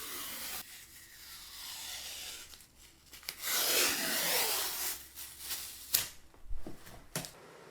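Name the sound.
sanding cured epoxy corner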